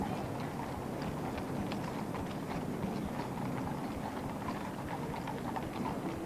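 Many horses' hooves clip-clop on a paved parade route at the 1978 Trooping the Colour, a dense continuous clatter of walking hooves with crowd and outdoor ambience, moderately distant.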